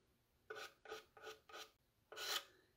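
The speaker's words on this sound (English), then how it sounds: "I'm using the applicator tool on this side. Cut it up if you need to, and I'm just scraping it over the holes" Applicator tool scraping gel stain across the holes of a stencil: four short rasping strokes in quick succession, then a longer, louder scrape after a brief pause, close and fairly faint with no talk.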